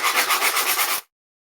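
Sandpaper rubs glitter off a thrifted sunflower picture in about eight quick, even back-and-forth strokes, close and fairly loud, then stops abruptly into silence.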